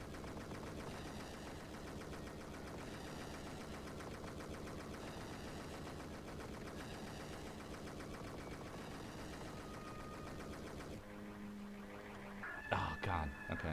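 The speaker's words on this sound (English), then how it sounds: "Instead of shooting the angels, we'll be shooting Harmonia" Gunfire during a video game boss fight, with rapid, continuous automatic shots layered over dense game sound effects that run for most of the clip before a shift to sharper, scattered effects near the end.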